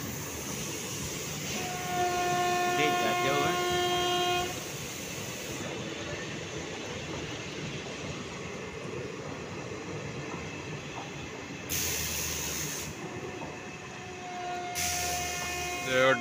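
Kalindi Express hauled by a WAP-4 electric locomotive departs a station, with rolling wheels, rhythmic clatter of rail joints and a steady rumble over several seconds, plus faint tonal whines and a few sharp knocks, heard nearby with no clear speech.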